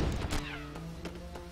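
A cartoonish cat meows once in the LEGO Pirates of the Caribbean video game, a short mid-loud call over soft game music with a few clunks and knocks around it.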